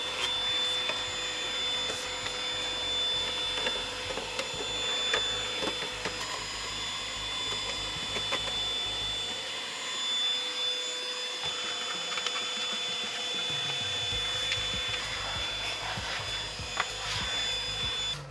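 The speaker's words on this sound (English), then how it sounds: "you can get right in there and give it a bit of a vacuum just to get rid of all of the dust" A vacuum cleaner sucks dust from inside a games console, its steady whine and broadband rush running continuously and close up, with brief shifts in tone as the nozzle moves around the fan area.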